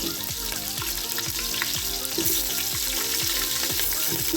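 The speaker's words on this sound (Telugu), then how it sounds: "ఉల్లిపాయలు ఫ్రై చేసుకున్నామండి ఎర్రగా" Onions and green chilies fry in a pan with a continuous, even sizzle that stays fairly quiet and close. No voices are heard.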